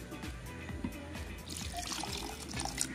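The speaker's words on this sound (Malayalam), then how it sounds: "കുറച്ചുകൂടെ ഇതിലേക്ക് വെള്ളം ഒഴിച്ചു കൊടുക്കാം," Water poured into a pan of stingray masala as it cooks, a brief trickling pour and faint bubbling heard up close, with no talk.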